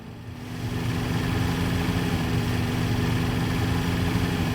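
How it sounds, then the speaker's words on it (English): A vehicle engine in the Transport Fever 2 video game runs with a steady, loud, low idling drone and rough vibration. It sounds like an old Volkswagen engine and carries on without pause for the whole stretch, with no talking over it. "Sounds like it's got an old Volkswagen engine in it."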